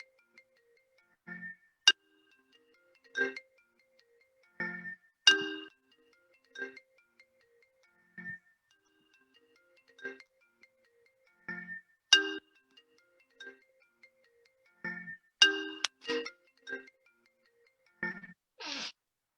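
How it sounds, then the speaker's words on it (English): An incoming phone call ringtone plays as a sparse series of short, bright electronic chimes and tones, spaced irregularly across about twenty seconds, fairly quiet with silence between the notes. "Did that incoming phone call just blow me off the air?"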